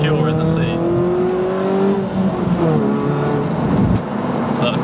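A Ford Fiesta ST150 takes a corner, its engine humming and revving steadily from inside the cabin while someone talks over it throughout.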